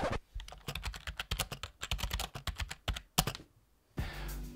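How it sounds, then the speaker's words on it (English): Rapid clicky keystrokes on a Nemesis Kane Pro mechanical keyboard, loud and close, in quick uneven bursts with a short pause before a final rustle. "The keyboard does make a noticeable clicking sound when typing."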